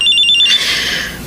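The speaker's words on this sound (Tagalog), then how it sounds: "Cellphone ko." A cellphone rings in a quiet room, a bright, rapidly pulsing electronic ringtone loud and close, cutting off after about half a second and leaving a soft hiss, with no talking.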